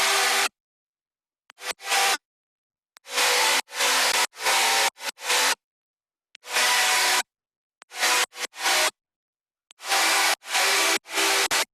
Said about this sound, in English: this is a sound that I programmed in Serum